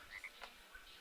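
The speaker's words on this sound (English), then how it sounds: "I can hear those frogs croaking." Frogs croak faintly in Minecraft, a few short chirping croaks scattered over a quiet ambient bed within about a second.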